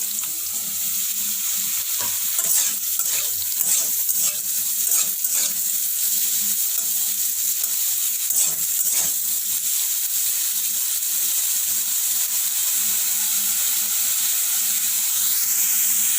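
Mushrooms fry in hot oil in a kadhai, making a dense, even hiss that lasts throughout, with a few sharp utensil scrapes early on and no one speaking.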